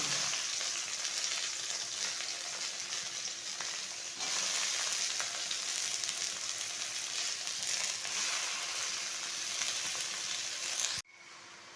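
Vegetables with ginger and coriander leaves sizzling in a frying pan for a prawn chachchari, a steady close hiss that swells slightly partway through, then drops off abruptly near the end.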